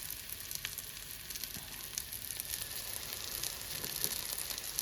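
Corn kernels coated in flour batter and crisp-fry mix sizzle steadily in hot oil, a continuous close hiss with faint crackles throughout and no voices.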